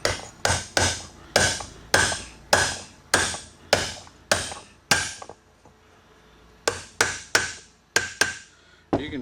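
A bearing spacer, lubricated with WD-40, is tapped down into a mower deck spindle housing: a quick series of sharp metallic knocks in close bursts, a short pause, then a few more strikes, near and loud with no talking.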